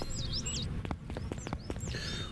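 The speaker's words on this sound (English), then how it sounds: "We've got a couple of budgies," Budgies chirp and warble in quick, rising and falling notes over a steady background hum, with a few sharp clicks mixed in.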